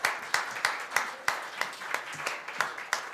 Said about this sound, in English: And to please give them a round of applause.